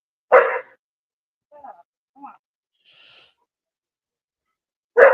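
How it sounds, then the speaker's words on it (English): A dog barks sharply and close, two loud single barks at the start and end, with a few softer muffled sounds between them against near silence. "Sorry, my dog is barking."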